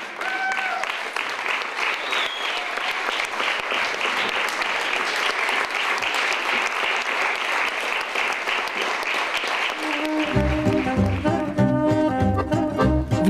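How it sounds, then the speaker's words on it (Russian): Audience applause after a theatre performance, a dense sustained roar of clapping from a large hall, steady and loud throughout, with music entering near the end. "Пусть будут нормальные человеческие аплодисменты."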